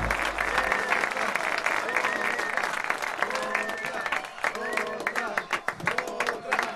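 An audience applauds at an intimate live unplugged concert, steady clapping spread across the room with tonal sounds and a voice running over it.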